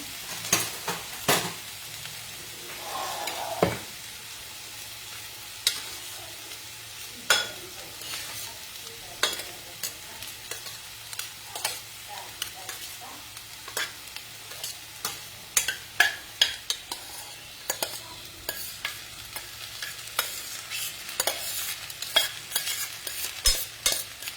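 Cooked rice stirred and fried in a pan, with steady sizzling under repeated sharp scraping and clinking strokes of a spoon against the pan, close and fairly quiet, no voices.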